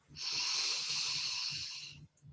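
A single long inhale during a guided meditation, drawn in as a steady airy hiss that swells quickly, holds for nearly two seconds and then fades. Faint low rumbles sit underneath.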